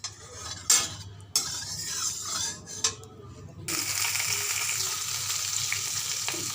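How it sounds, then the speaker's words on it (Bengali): Fish rubbed with salt and turmeric frying in hot oil in a kadai on a gas stove, a steady close sizzle with a few sharp clatters of utensils early on, swelling louder once the pieces go in. "মাছ ভাজা বসিয়ে দিয়েছি"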